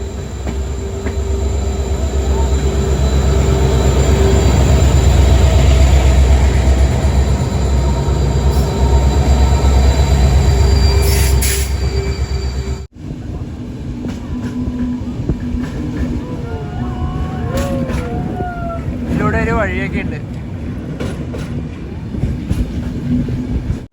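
An express train on the Bengaluru to Mangaluru line, pushed from behind by a banker locomotive, roars loudly with rumbling wheels, then drops to a lower rattle with squealing wheels near the end, a voice speaking briefly over it.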